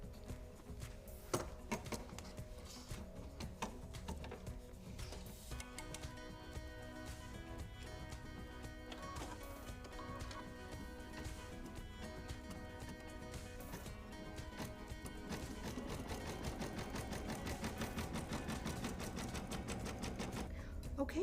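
A sewing machine stitches down an appliqué circle, its needle whirring in a steady continuous run that speeds up slightly near the end, close and clear with no talking.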